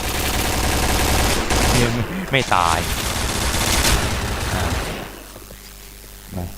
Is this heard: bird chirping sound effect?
no